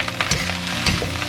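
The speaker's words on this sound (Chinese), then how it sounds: "全程这个火力也不要降下来，降下来就容易粘锅或者粘连了，就是中大火这样炒。" Soy sauce fried rice is stir-fried in a wok over high heat, with a steady sizzle and the rhythmic scrape and toss of a spatula, close and continuous.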